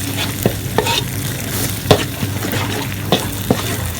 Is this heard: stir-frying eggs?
yes